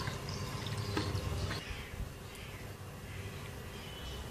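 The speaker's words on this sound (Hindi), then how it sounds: "बाकी का आधा ग्लास पानी डालेंगे ठंडा।" Cold water is poured into a glass for a peach lemonade, a faint, soft trickle and splash that is quieter in the second half, with no talk.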